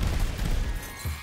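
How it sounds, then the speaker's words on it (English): Video game fireworks, a dense burst of rapid, crackling booming explosions at moderate distance, the blasts running together for about a second with a final thump. "What beautiful fireworks!"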